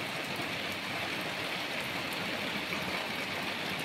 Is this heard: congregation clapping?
no